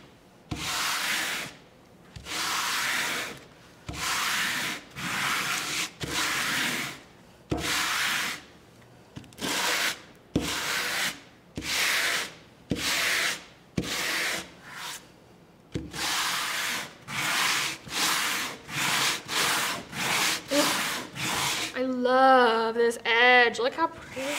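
A sanding tool is rubbed back and forth over a painted wooden board in many loud, close, rhythmic strokes with short pauses between them, and someone talks briefly near the end.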